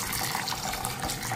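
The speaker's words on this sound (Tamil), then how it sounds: "கொஞ்சம் தண்ணி ஊற்றிக்கிடுவோம்" Water poured into a bowl of soaking mung beans, a steady close splashing gush throughout without any voices.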